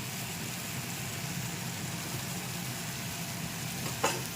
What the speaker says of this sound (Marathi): कमी गॅसवर याला मस्त मसाला हा परतून घ्यायचा.